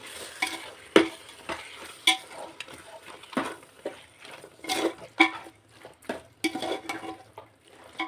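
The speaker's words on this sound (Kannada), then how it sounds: "ಈಗ ಎಲ್ಲ ಮಿಕ್ಸ್ ಮಾಡ್ಕೊಳ್ಳೋಣ" Mutton biryani masala being stirred in a pot for a festive meal, with repeated scraping spoon strokes and clinks against the metal in an uneven rhythm, close and moderately loud, over a faint sizzle.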